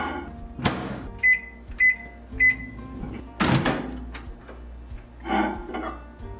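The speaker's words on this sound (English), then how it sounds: "Now we're gonna microwave it until it gets to that lukewarm temperature." A microwave oven is started to warm 200 millilitres of liquid for a bread dough. The door thuds shut, three quick keypad beeps follow, then more clunks and a rustle in a quiet kitchen.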